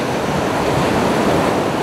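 Ocean waves at Le Guen beach in Erquy make a steady broadband wash of surf, loud and continuous with a little wind noise, heard alone with no talk.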